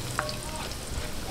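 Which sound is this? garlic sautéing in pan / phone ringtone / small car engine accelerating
garlic sautéing in pan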